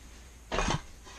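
Metal camping cook kit pieces clatter and clink briefly as the kit is packed, one short burst of rattling over a quiet room.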